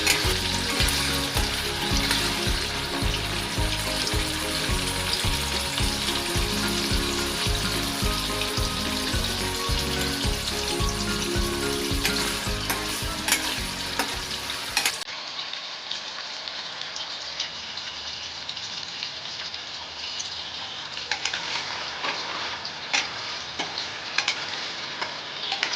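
Paneer pieces fry in oil in a pan with a dense, continuous sizzle and crackle. The sound stays steady throughout and becomes slightly thinner partway through.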